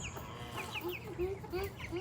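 Chickens cluck softly nearby in short, repeated calls, with faint background noise and a few higher bird-like chirps.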